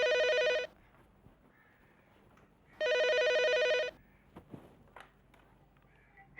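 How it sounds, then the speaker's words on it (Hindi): A telephone rings indoors in two long, loud electronic bursts separated by a pause, with light shuffling and household movement between the rings. "मैं सुनती हूँ फोन।"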